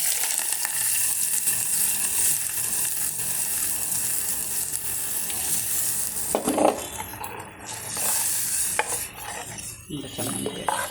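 Mustard seeds crackling and spluttering in hot oil for a coconut chutney tempering, a steady close sizzle with faint pops, joined later by clinks and scraping of a spoon in a pan.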